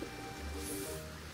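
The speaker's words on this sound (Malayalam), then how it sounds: "കാറ്റും മഴയും കടലും എല്ലാം കൂടി." Rain and wind on the shore at Wembury Beach, Plymouth: a faint, steady patter of rain with a soft rush of air, heard alone for a brief moment.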